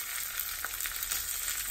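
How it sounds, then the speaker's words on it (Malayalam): Dried red chillies and curry leaves fry in hot oil, giving a steady, dense crackling sizzle close by, with a few sharper pops spaced through the stretch and no voices. "ഇനി ഇതിലേക്ക് 2 ഉണക്കമുളക് 2-3 കഷ്ണങ്ങളാക്കിയത് ചേർക്കാം. അതൊന്ന് ഫ്രൈ ആയി വരുന്ന സമയത്ത് നമുക്കിതിലേക്ക് കുറച്ച് കറിവേപ്പിലയും കൂടി ചേർക്കാം."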